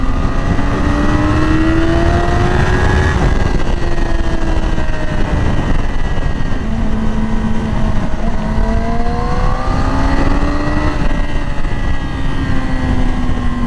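A 2020 Yamaha R6 sport motorcycle engine revs and climbs through its gears, pitch rising in repeated sweeps, loud and close, with road noise underneath.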